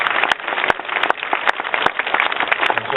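An audience at a community speech outside a South Los Angeles sheriff station claps steadily, a dense wash of applause with sharp individual claps standing out, and no talking over it.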